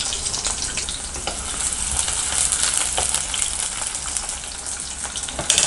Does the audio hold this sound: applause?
no